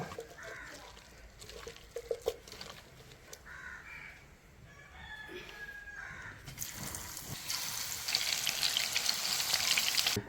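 Mushroom pakoda deep-fries in hot oil with a soft, continuous sizzle and bubbling, while crows caw outdoors in the background and the frying grows louder toward the end.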